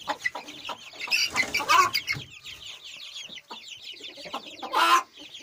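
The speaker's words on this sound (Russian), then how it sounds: "забавные цыплята." Chicks and chickens in a chicken coop, a busy mix of near clucking and high cheeping calls in irregular bursts, some loud, with no talking.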